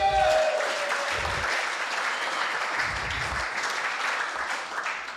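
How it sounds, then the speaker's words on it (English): Audience applause at a team meeting, a round of clapping that starts loudest and gradually thins and fades, with a few low thumps mixed in. "Give him a round of applause."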